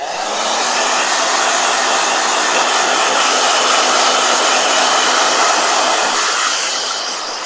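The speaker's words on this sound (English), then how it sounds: "Blow dryer." A blow dryer runs steadily for several seconds, a loud close continuous whooshing roar of air that holds even before fading slightly at the end.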